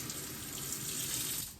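A cup of water runs from a kitchen tap as it is measured out for boxed cake batter, a steady close rush that tapers off at the end.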